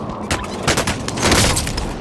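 Gunfire in the video game Call of Duty: Warzone comes as a dense, loud burst of overlapping shots and booms, continuous for about two seconds.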